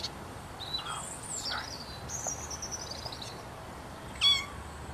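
Thin, high meows of kittens come in several short calls over a faint noisy background, with one louder squeal near the end.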